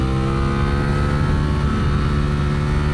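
Ducati Streetfighter V4S motorcycle accelerating hard on a race track toward a wheelie, a loud close engine howl with dense harmonics holding steady and climbing across the whole stretch, no speech.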